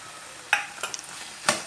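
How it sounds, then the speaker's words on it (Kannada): Grated coconut is stirred into a sizzling snake gourd palya in a pan, with a few light spoon scrapes and clinks over a faint, soft fry. The sound is close but quiet. "ಕಾಯಿ ತುರಿ ಹಾಕಿ ಮಿಕ್ಸ್ ಮಾಡಿ ಚೆನ್ನಾಗಿ."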